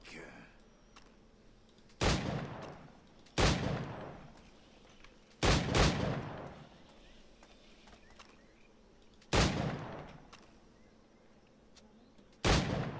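A Puckle gun fires in Assassin's Creed 4, single heavy booms spaced a second or more apart with long rumbling decay, loud and near over a low ambient background.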